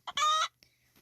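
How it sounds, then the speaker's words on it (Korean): A chicken in a video game gives one short, bright cluck, followed by a couple of faint, brief game sounds and quiet. "꼬꼬댁."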